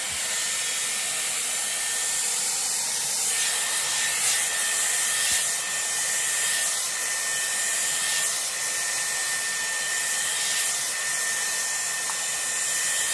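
A Dyson Airwrap runs close and steady, its even airy roar blow-drying hair through a round brush, with faint brushing swishes and no speech.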